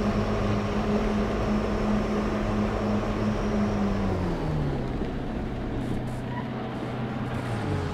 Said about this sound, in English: Stop the engine, please, please, please stop it